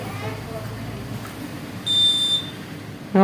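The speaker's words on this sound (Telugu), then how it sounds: "అలారం సౌండ్ కూడా వచ్చింది" A single high-pitched electronic smoke alarm tone sounds for about half a second. A low hum runs underneath, and a brief voice comes in right at the end.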